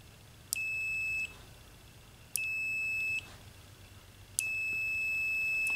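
Continuity beeps from a Kaiweets HT200B clamp multimeter as its leads are touched together: three steady high-pitched electronic tones, each lasting about a second, separated by short gaps, clear and close over faint background hiss.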